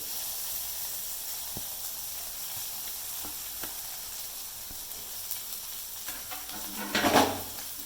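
Shark fish puttu fries in a pan with shallots, giving a steady close sizzle throughout, with scraping stir strokes growing louder toward the end.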